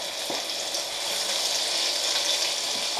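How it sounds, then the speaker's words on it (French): Onions sizzle and fry steadily in a hot pan, a dense continuous crackle held at close range with no talking. "Allez, on met les oignons."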